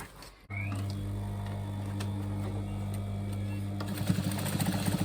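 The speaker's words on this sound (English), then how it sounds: "always start off by doing a good back tack" A sewing machine stitching a back tack on a trouser hem, running as a steady close motor hum after a short pause, with quicker rattling stitch sounds near the end as the stitching direction changes.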